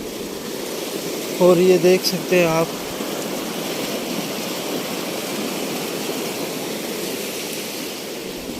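Small fast-flowing water streams run near a waterfall in Kashan, Iran, a loud, steady broadband rush that fills the scene, with someone speaking briefly over it early on.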